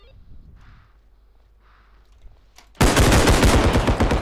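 Gunfire in Bodycam, a tactical shooter set on a hospital map, bursts in suddenly as a loud, rapid volley of close shots after a quiet stretch with faint distant sounds.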